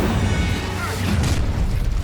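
Incendio fire spell cast during combat in Hogwarts Legacy, a dense, rumbling burst of flame and impact noise that stays loud throughout, thick and continuous with low booming layers.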